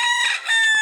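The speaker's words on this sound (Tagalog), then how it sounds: "Ito ayun na sila manok." A rooster crows once, close and loud, a single bright drawn-out call that dips briefly in the middle before trailing off.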